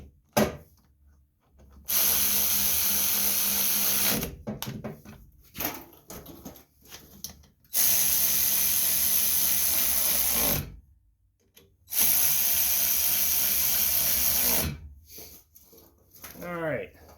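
A power driver tightens the fuel tank bolts on a Craftsman 205cc leaf vac in three sustained whirring bursts, each lasting a few seconds, separated by quieter handling noises and brief talk.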